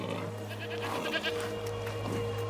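Goat bleats from A Plague Tale Requiem, a tame farm goat named Lucinda, come in short, fairly close, tonal calls over a steady low ambient hum, with no talking.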